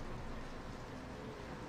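Rain falls in Final Fantasy XIII-2 as a faint, even hiss of drops that holds steady and unbroken throughout, with no voices.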